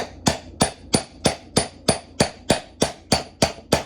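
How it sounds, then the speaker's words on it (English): Steady metal-on-metal hammer blows drive a Ford Escort wheel bearing in with a socket, about eleven sharp evenly spaced strikes, each with a short ringing decay, close and loud with no talking. "So I've got my base, and then I'll start hammering this on."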